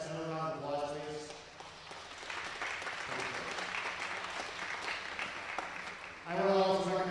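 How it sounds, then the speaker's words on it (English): Audience applause for the Nebraska State Fair board and volunteers, a broad wash of clapping running steadily for several seconds between stretches of a man's amplified speech at the start and end. "give the board, all the volunteers, everybody associated with making the State Fair a success, another round of applause"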